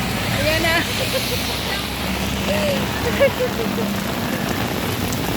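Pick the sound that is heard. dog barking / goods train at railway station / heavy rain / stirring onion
heavy rain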